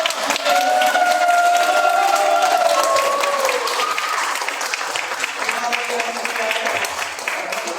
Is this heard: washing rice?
no